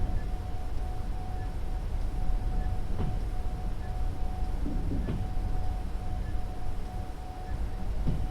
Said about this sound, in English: Come on, reverse faster, you dumb fucking locomotive.